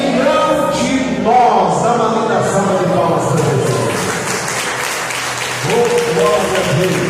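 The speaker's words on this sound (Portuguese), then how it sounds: "Dá uma linda salva de palmas para Jesus" A church congregation claps together during a service, making a sustained wash of applause with loud voices calling out over it.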